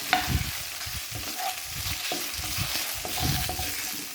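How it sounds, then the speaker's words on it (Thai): Pork stir-fries in a little olive oil, a steady close sizzle broken by repeated scraping strokes of a spatula against the pan, with no voices. "ผัดให้หมูสุกนะคะ"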